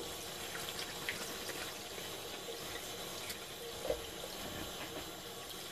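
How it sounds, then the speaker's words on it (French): Tap water runs steadily into a sink while henna-covered gloves are rinsed under it, a continuous faint splashing wash with no voices. "on rince un peu les gants"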